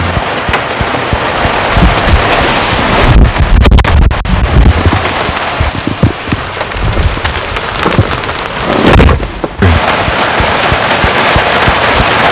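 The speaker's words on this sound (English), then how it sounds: "you can hear the rain coming down. It's pouring out." Heavy rain pouring down outside a jeep while solo camping in Newfoundland and Labrador, loud, dense drumming and crackling on the vehicle's surfaces, sustained with brief heavier bursts, heard up close and without talk.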